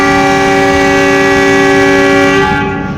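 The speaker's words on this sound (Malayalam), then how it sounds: "ട്രെയിനിൻ്റെ second last ഹാൾട്ടായ summer hill railway സ്റ്റേഷനിലേക്ക് ട്രെയിൻ എത്തിയൊക്കെയാണ്" The Kalka-Shimla toy train sounds a loud, sustained multi-tone horn as it arrives at Summer Hill station near Shimla, over a low rumble of rolling wheels, with the horn fading at the end.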